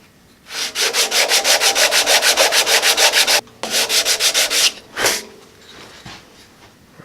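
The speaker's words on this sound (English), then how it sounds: "we'll just try to freshen it up real quick with some sandpaper" Sandpaper rasps rapidly back and forth over the wooden body of a pinewood derby car, two close runs of quick even strokes broken by a short pause, then a single stroke and quiet.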